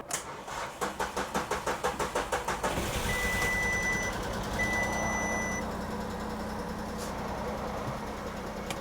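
A car engine cranks in a rapid rhythmic chug for a few seconds, then catches and settles into a steady close idle, with a faint electronic chime sounding over it.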